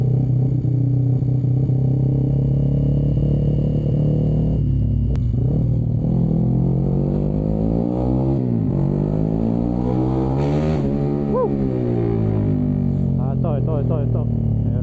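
Long line of street traffic backed up to a house, with cars and motorcycles idling and revving in a steady, loud engine rumble that rises and falls throughout; voices appear to be mixed in.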